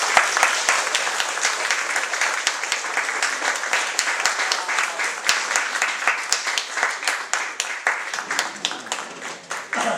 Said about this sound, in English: So let's give a round of applause to the Buffalo Soldiers as they march in.